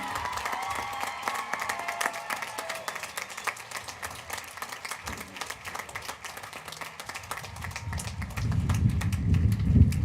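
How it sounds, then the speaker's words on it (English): A graduation audience applauds its top 10 students, a steady crowd clapping that swells and grows louder and denser near the end. "let's give them a big round of applause"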